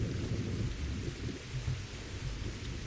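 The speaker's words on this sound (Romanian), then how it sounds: "Ok, a început o ploaie." Rain pours and thunder rumbles in the survival video game Survival Postapocalypse Now, a steady dense downpour with deep rolling thunder that plays alone.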